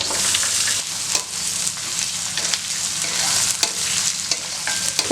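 Finely chopped shallots and onions frying in hot oil for rava upma, a dense continuous sizzle with stirring scrapes throughout, loud and close, with no talking.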